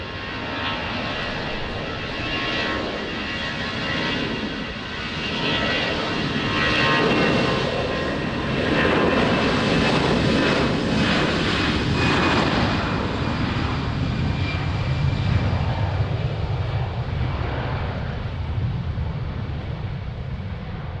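A fixed-wing airplane landing on runway 20 at Lisbon Airport in rain and wind, its engine roar loud and sustained for the whole stretch, swelling slightly midway and holding steady, with no voices over it.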